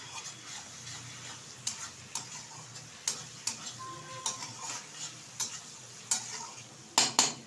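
Garlic paste frying in oil with cashews and raisins while being stirred, a soft steady sizzle broken by a string of sharp spoon-on-pan clicks and scrapes near the pan.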